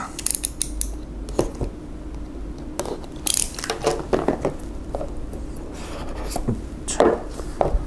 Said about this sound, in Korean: 그러면 박스를 한번 열어보겠습니다.